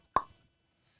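A single short hollow pop made by a voice imitating a cricket bat striking a ball, followed by silence.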